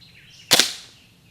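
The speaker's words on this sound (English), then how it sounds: "let's take a shot with semi-auto, see how that works" A single sharp crack from an Umarex AER 16 air rifle fired on semi-auto, loud and close, with a brief tail fading after the shot and no talking.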